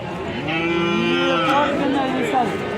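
A Jersey cow moos once, a long, deep, drawn-out low close by.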